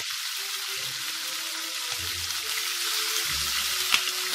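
Meat browning in a pan while turkey is being cooked, a steady broadband sizzle and hiss running throughout with soft low bubbling bursts and a brief clink near the end.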